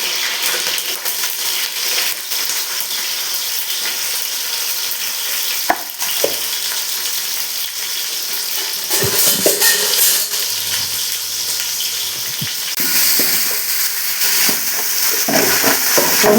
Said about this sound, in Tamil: வெங்காயம் பொன்னிறம் ஆகிற வரைக்கும் நல்லா வதக்கிக்கணும்.